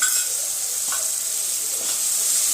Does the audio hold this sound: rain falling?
no